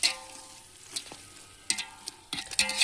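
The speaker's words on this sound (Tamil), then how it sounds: "இப்போ வதக்கி விட்றே" Vegetables sautéing in a large pan for veg biryani cooked for fifty people, a low sizzle punctuated by a few sharp ladle scrapes and clatters, close and intermittent.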